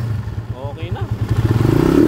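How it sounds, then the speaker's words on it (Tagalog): A motorcycle fitted with a new silent timing gear set rides along a highway on a test drive, its engine pulsing steadily and building toward the end, with a voice speaking over it. "So tinest drive natin tong motor ni Bossing."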